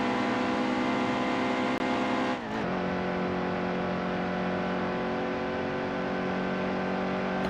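A NASCAR truck in the racing game NASCAR Heat 2 builds speed on the first lap with a loud sustained engine whine that briefly dips during a gear shift and then climbs steadily again.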